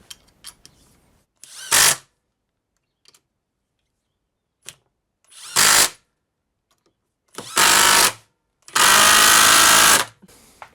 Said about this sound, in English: It started hammering before it got the screw all the way in, which is interesting.